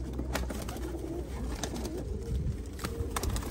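Pairs of small-beaked pet pigeons of a breed called Egyptian coo softly and repeatedly against a steady background hum, with faint chirps mixed in.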